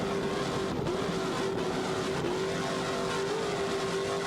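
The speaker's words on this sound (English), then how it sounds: "Those Zool power plants sounding excellent." Offshore racing powerboat engines, Zool power plants, run at the 1993 U.S. Offshore World Championships in Fort Lauderdale, a steady loud droning roar with slight pitch shifts as the throttle is worked, continuous and without voices.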